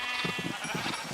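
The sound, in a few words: sheep bleating in a pit, from Minecraft-style video game Zombie Craft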